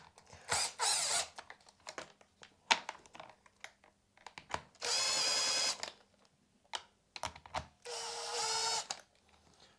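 Bolts tightened on a 62cc Perla Barb chainsaw with a power tool, giving two sustained buzzing whirs separated by clicks and small metallic handling taps, close and moderately loud.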